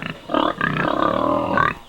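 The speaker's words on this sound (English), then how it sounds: "I like the pigs." Pigs on a farm give a burst of close, loud grunts and snorts that run together for about two seconds.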